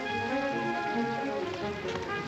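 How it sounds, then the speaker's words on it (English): Steady rain patters on a surface close by, a dense hiss broken by drops landing, with a faint background tone running beneath the downpour. "Oh, it's raining."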